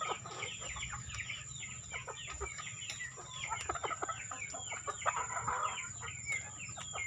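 A flock of chickens sick with a snoring respiratory illness clucks and chatters close by in a busy, overlapping stream of short calls, over a low steady hum.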